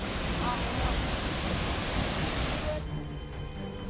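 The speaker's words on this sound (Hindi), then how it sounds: "लगातार हो रही बारिश से झरने से बेतहाशा पानी गिरने लगा।" A waterfall swollen by continuous heavy rain sends down a dense, loud, unbroken rush of water that fills the whole moment, its tone thinning slightly near the end.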